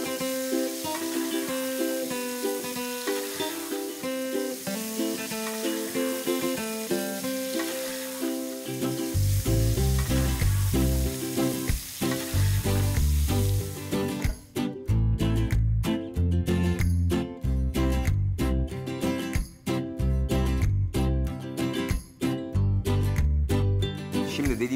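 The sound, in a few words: butter melting and sizzling in a pan for potato chops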